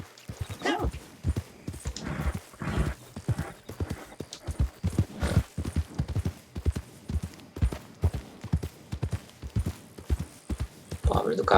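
A horse gallops in the video game Red Dead Online, its hooves pounding in a fast, steady rhythm that stays loud and close throughout, with occasional game sounds mixed in.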